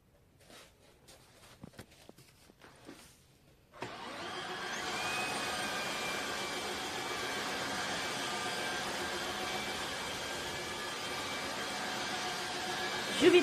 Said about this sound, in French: L'aspirateur, il m'a sauvé la vie.